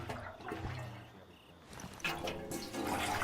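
Water container being filled in the video game DayZ, a steady watery pouring and trickling sound that swells louder toward the end, with faint voices in the background.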